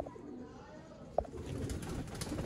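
A pigeon chosen as a strong, hardy bird coos softly and intermittently close by, with a faint flutter standing out partway through.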